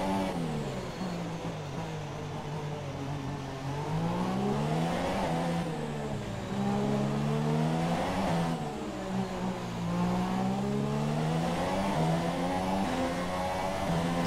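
Formula 1 race cars in the F1 2017 game at Monaco, engines droning and revving continuously with rising and falling pitch sweeps as cars shift gears, loud and close throughout with no talk.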